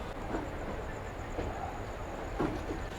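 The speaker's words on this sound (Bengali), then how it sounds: "আমার ট্রেন ছেড়ে বেরিয়ে যাচ্ছে শালিমার রেলওয়ে স্টেশন" The Shalimar–Puri special train 02839 rolls out of Shalimar railway station with a steady low rumble and faint rhythmic wheel clatter, heard from inside a carriage as it gathers pace.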